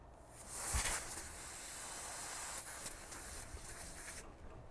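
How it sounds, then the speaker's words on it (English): Refrigerant hisses through a cracked recovery valve, a faint close steady rush that opens abruptly, holds and then cuts off. "I will crack the valve there."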